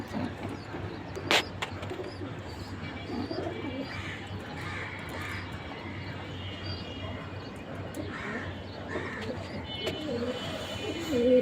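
Pigeons coo softly and intermittently near and far among ambient room noise, with a brief sharp rustle or flap early on and no talking.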